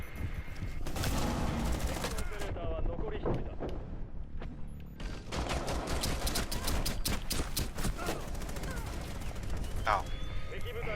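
Rapid bursts of gunfire crackle through a shooter video game, dense and fairly close, broken by a short lull before the volleys resume. Voices talk over the shooting.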